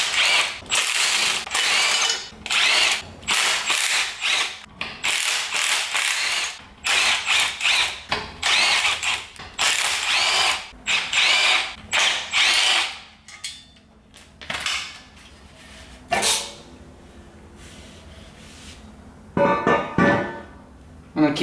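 An impact wrench rapidly removes bolts from a Honda H22 engine, loud repeated bursts of hammering ratchet-like rattling, each a second or two long, with short pauses between and a few quieter stretches of handling noise.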